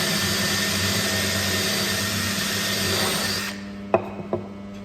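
A power drill bores a hole through a timber centering jig in a woodworking shop, a steady loud whine that runs for about three and a half seconds, then cuts off, followed by a couple of sharp knocks.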